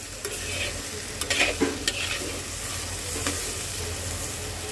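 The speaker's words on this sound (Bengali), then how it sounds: "তো চলো এখন আমি সবজিটাকে একটু ভাজা ভাজা করব।" Vegetables frying in a pan for a small kachki fish dish, a steady close sizzle broken by scraping stir strokes, with no talking.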